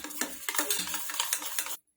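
Gram flour (besan) batter is whisked with water in a large bowl for methi gota fritters, a quick, steady run of close, wet stirring strokes that stops abruptly.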